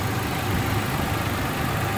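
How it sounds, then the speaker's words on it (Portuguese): A Toyota Hilux Flex 2.7 high-displacement gasoline engine runs at a steady idle, a close, even low rumble with no speech over it. "esse ronco do motor a gasolina de alta cilindrada também é de tirar o chapéu"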